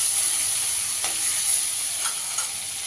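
Prawns frying in oil give a steady, fairly loud sizzle with light stirring scrapes and a few soft clicks, heard close with no talking.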